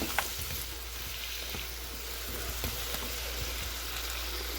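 Half a teaspoon of minced ginger frying in a tablespoon of grapeseed oil, a soft continuous sizzle with a low steady hum beneath, faint and even with occasional small pops.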